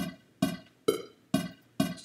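A metronome click track ticks in a steady pulse, five bright evenly spaced clicks about half a second apart, each a sharp percussive tap with a short decay, close and alone.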